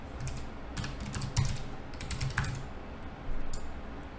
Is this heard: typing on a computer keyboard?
yes